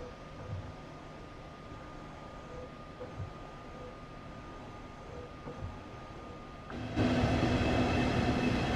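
A train in the Train Sim World 2 game rumbles along at a low, steady level with faint tonal hums, then a louder, brighter wash of rolling noise swells in for the final seconds.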